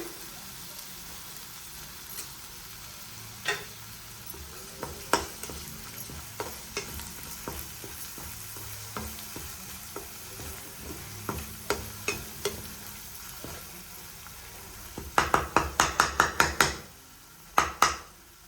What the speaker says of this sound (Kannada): ಈ ಥರ ಚೆನ್ನಾಗಿ ತಿರುಗಿಸ್ಕೊಳ್ಳಿ